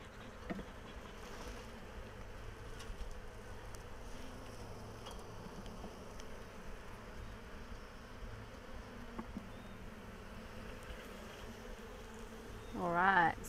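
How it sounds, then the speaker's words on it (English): Honeybees buzz around an open hive during an inspection, a faint, steady droning hum throughout with one bee briefly passing loud and close near the end. "Just a bit of smoke to get those bees out of the way."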